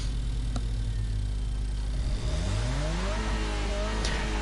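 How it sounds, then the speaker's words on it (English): A car engine in GT Sport starts on the loading screen, rumbling at idle and then revving upward in rising sweeps, loud and continuous with no talking over it. "the loading screen sound effects of the engine starting up is of the actual engine that you're racing"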